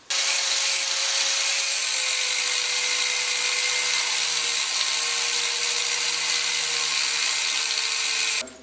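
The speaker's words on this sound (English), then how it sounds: "I'm gonna take this thing now and cut it lengthwise with my angle grinder" Angle grinder slicing lengthwise through a heavily rusted suspension pin and bolt, a loud steady high-pitched whine with abrasive grinding that holds continuously for about eight seconds before cutting off.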